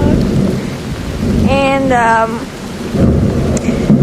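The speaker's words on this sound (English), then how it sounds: "Oh look, it thunderstorms again." Thunder rumbles loud and deep through a rainstorm, with steady rain falling on surfaces throughout and a voice speaking briefly over the storm.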